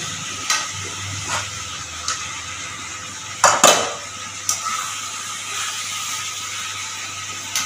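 Potato curry for serving with dal puri, stirred and fried in a pan, gives a soft steady sizzle with a few light scrapes and one sharper clatter of the spoon near the middle, close by and with no talking.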